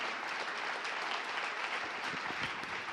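A congregation applauds at an evangelistic gospel service, a soft, steady wash of many hands clapping, heard at a distance and even in level throughout, with no clear voices over it.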